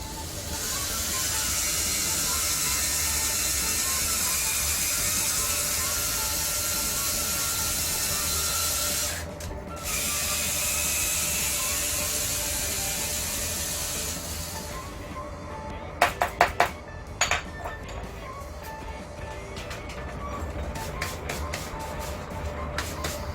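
A power drill spins a cleaning brush inside a golf club shaft with a loud, steady whirring grind that briefly dips, then cuts off, followed by a few sharp clicks and handling knocks.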